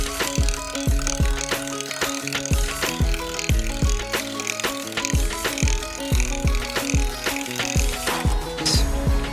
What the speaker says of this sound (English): right now we're just finishing up the bolting down of this. We got this nifty impact driver